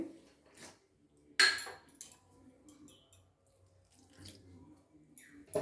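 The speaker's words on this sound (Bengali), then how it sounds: "এবার অল্প জল দিতে হবে।" A little water is poured into a chopped onion and tomato mixture for prawn chops, with short splashy bursts and a few metallic utensil clinks in a quiet kitchen.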